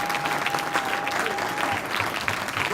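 Applause from an audience at a political gathering, a steady dense wash of clapping throughout with a faint tone running underneath.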